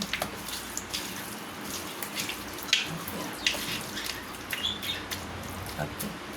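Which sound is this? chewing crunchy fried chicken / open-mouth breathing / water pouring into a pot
water pouring into a pot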